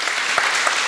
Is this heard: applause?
yes